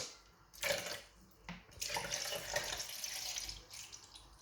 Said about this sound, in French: Là c'est pareil, on va remplir avec de l'eau.